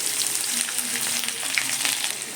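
Sliced onions hitting hot oil with already-fried roasted peanuts for puffed-rice uggani, giving a continuous close, crackling sizzle with no voices.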